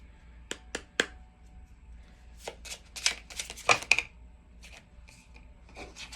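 Cards from the Audacity tarot deck are shuffled, heard as a few sharp snapping flicks followed by quick riffling and rubbing bursts, close and fairly quiet.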